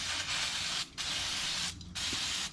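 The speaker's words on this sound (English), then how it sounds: "I'm going to go ahead and spray her down with some brake clean just to make sure she's good and clean here" Brake cleaner hisses from an aerosol can onto the brake caliper of a Yamaha YXZ side-by-side in a home garage, in three sustained close bursts separated by brief pauses.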